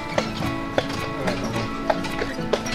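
A horse named Red being ridden on a trail at a campground, hooves clip-clopping in an irregular beat over a steady rumble of background noise.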